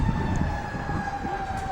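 A fire truck siren wails steadily near a college soccer stadium, a sustained tone heard at moderate distance over rumbling background noise.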